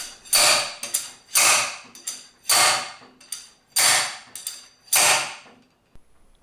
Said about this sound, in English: Use an M14 threaded bolt on the slide hammer and hammer the pinion